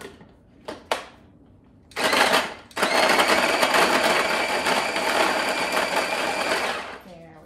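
Rechargeable mini food processor whirring loudly and steadily for several seconds after a few sharp clicks and knocks, then stopping, with a brief voice at the end.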